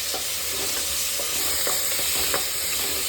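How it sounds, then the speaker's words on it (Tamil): Chopped tomato sautés in a pan for chicken kulambu, a continuous close sizzle broken by scraping stirs, with no voices. "இது கொஞ்சம் வதங்குற வரைக்கும் நம்ம வதக்கிட்டு நம்ம இஞ்சி பூண்டு பேஸ்ட் சேர்த்துக்கலாம்."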